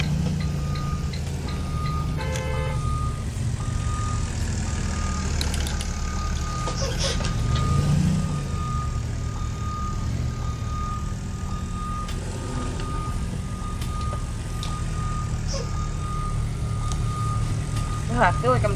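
Reversing beeps from a truck parking in the Rigs of Rods driving game, a steady repeated tone over a constant low engine rumble, with people talking throughout.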